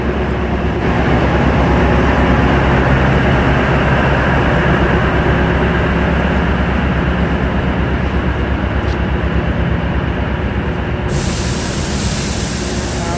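A Beed–Ahmednagar DEMU passenger train rumbles along steadily near Amalner station, loud and close, with continuous clattering wheel noise and a constant low roar throughout.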